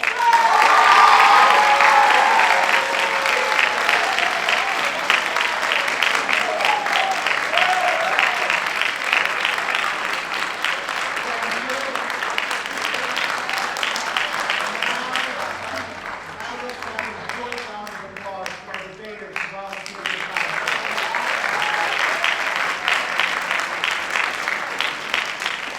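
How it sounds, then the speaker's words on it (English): A high school debate audience applauds after a debate on water consumption restrictions, with loud, dense clapping filling the room for the full stretch, easing slightly midway before swelling again, and some voices mixed in near the start. "please applaud."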